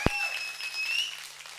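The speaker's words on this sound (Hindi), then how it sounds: "मोहम्मद जीशान अयूब साहब के लिए जोरदार तालियां" An audience cheers at the trailer launch of the series Sankalp, with a sharp clap up front followed by a rising whistle over soft crowd noise.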